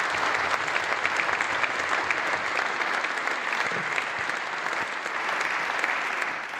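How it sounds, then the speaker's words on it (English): A sustained round of applause from a seated audience at a charity event, thick and even with steady density for several seconds, tapering only slightly near the end. "let's give Trevor a big round of applause"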